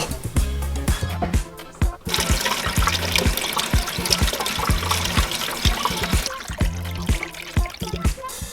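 Water pours and splashes in a steady rush, spilling across a kitchen counter while coffee is being made, with a few short interruptions and no talking.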